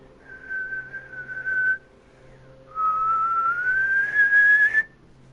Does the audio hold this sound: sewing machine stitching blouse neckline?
no